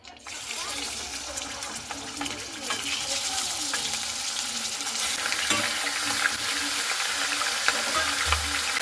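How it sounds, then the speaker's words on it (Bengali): Chicken pieces frying in mustard oil in a wok, giving a steady broadband sizzle that swells after the first second and holds fairly loud throughout, with faint stirring scrapes. "এখানে দেখুন কড়াই আমি দিয়ে দিচ্ছি সরিষার তেল। এরপরে তেলের ওপরে চিকেনগুলো আমি দিয়ে দিচ্ছি"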